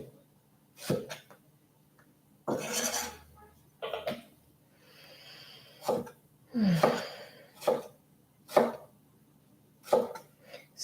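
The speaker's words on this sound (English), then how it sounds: "I'm going to slice that one up into quarters" A knife slices a very large fresh strawberry into quarters on a cutting surface, giving several sharp, separate cuts spaced a second or two apart, close and fairly clear with quiet pauses between.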